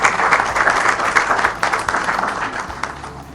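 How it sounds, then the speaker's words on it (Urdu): Audience clapping at a government IT-sector event in Punjab to welcome the chief minister: a dense, steady round of applause from a large crowd that tapers slightly at the end. "بھرپور تالیوں میں استقبال کیجیے."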